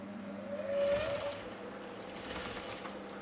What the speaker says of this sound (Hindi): अभी हम इसको वन साइड सिलाई कर देंगे